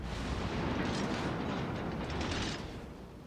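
Ship guns fire in the World of Warships: Legends video game, a dense, rumbling roar of continuous booming gunfire that holds steady throughout. The sound is loud and broad, with rougher bursts swelling near the middle and toward the end.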